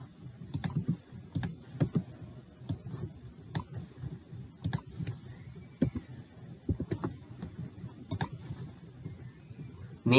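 Key presses on a computer keyboard while entering a symbol code in Word: soft, close clicking taps in an irregular rhythm with occasional sharper strokes, steady over ten seconds.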